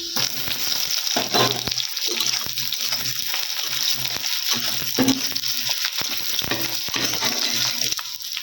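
Chopped onion frying in a pan crackles in a continuous close sizzle, with scraping stirs and spoon knocks recurring throughout.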